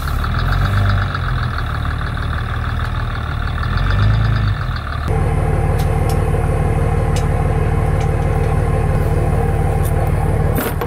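A truck engine drones loudly inside the cab of a Cummins-swapped pickup. It idles with a rough low rumble and then steps abruptly up to a steadier, louder running note, with no talking.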